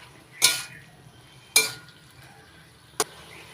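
A spoon knocks three times against a pan while fried potatoes are mixed into Malabar spinach. The clear, separated clinks stand out above a quiet background.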